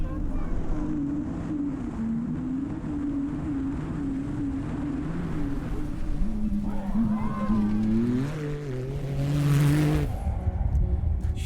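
A race car at the Finke Desert Race approaches the big Finke jump, its engine building from a steady drone to a rising, louder roar amid wind noise, with talking over it.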